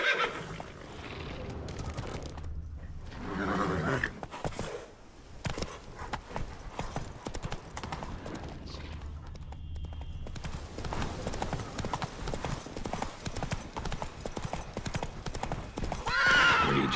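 Roach, Geralt's horse in The Witcher 3: Blood and Wine, gallops with steady hoof clip-clop and a whinny or two, set against in-game music and ambience.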